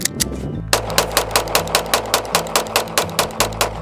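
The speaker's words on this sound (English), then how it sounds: "So let's do a quick 15 rapid fire." About fifteen rapid, evenly spaced shots from a Sig Sauer P365 XL pistol loaded with a 15-round magazine, loud and close, fired in one fast unbroken string.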